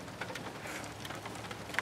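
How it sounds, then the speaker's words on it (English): A brief stretch of steady, soft rain pattering, with a few distinct drops standing out against the hiss. "it's fucking raining."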